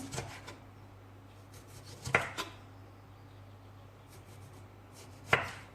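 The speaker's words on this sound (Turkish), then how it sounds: "O yüzden şöyle halka şekil, şeklinde yuvarlak yuvarlak doğrayacağız." A knife cuts tomatoes into rounds on a board, giving a few sparse, quiet knocks and a louder chop near the end against a faint background hum.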